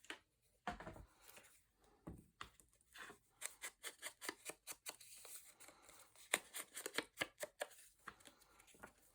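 Scissors cut a piece of craft paper down to size for a tag box, giving a quick run of crisp, rhythmic snips close by, with a few softer rustles of paper in between.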